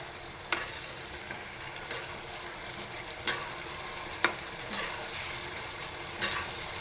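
Brinjals fry in hot oil with a faint, steady sizzle, broken by a few sharp clicks and scrapes of a spoon, nearby and without talk.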